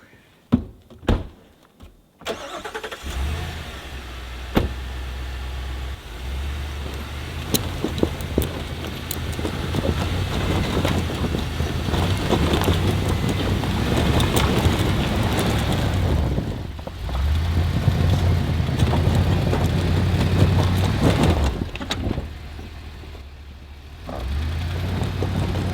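A vehicle towing a travel trailer up a snowy stone road strains steadily with a low engine rumble and grinding tires. A few clunks come at the start, and it stays continuous and fairly close throughout.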